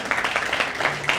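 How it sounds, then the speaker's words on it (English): Brief burst of audience applause for a panel of speakers at an Asian Canadian intercultural dialogue event in Lethbridge, dense and fairly close, lasting only a moment. "Our panel of speakers, everyone, can one round of applause again for them."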